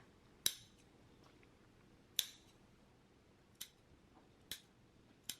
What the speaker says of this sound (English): Now that you have it sewn, we can go ahead and trim our seam.